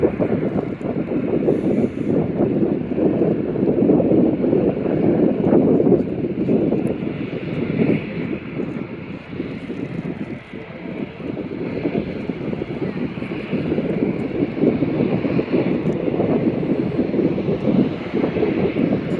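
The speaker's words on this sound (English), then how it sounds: "it looks like she's taxiing out for takeoff. You can see the Ryanair 737-800 next generation" A Ryanair Boeing 737-800 Next Generation taxiing out for takeoff at Manchester Airport, a steady broad jet engine rumble and whine with wind buffeting the microphone, continuous and fairly close throughout.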